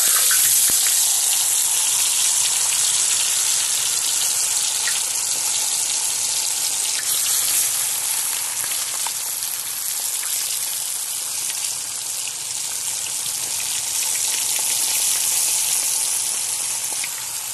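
Flour-coated bream fries on a saj over a campfire, giving a loud, steady, dense sizzle and crackle that runs unbroken throughout with no talking.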